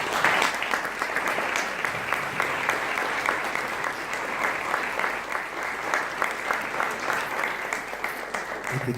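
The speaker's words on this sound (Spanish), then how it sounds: "Le damos un aplauso al Señor." A church congregation bursts into steady applause, a dense, even wash of many hands clapping from start to finish with no break.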